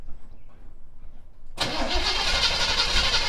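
A 1979 Chevrolet C10 engine cranks over and catches at about one and a half seconds, then runs loud and steady close by.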